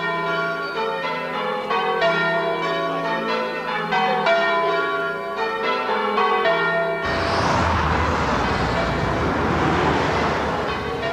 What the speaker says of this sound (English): And the bells have never sounded better.